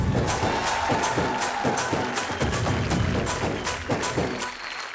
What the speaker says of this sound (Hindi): मेरे लिए ताली बजाओ